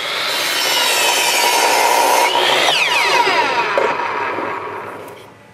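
A saw cuts through wood blocks for a log cabin birdhouse, a loud close rasping whine that rises and then trails off near the end, with no speech.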